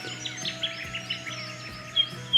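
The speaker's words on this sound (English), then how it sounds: "Just listening to the birds" Several birds chirp and trill in a quiet outdoor dawn chorus at a campsite, with a faint insect hum underneath and no talking.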